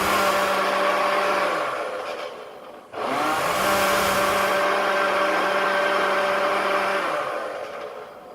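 A blender whirs loudly as it purees a green smoothie with water, running steadily, cutting out briefly, then spinning back up and holding before winding down at the end.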